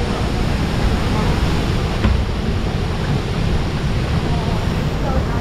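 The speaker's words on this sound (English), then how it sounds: "Man, that is such a nice waterfall" Ouzoud Falls in Morocco, the tallest waterfall in North Africa, heard from a boat below as a steady, loud, broadband roar of falling water that fills the whole stretch.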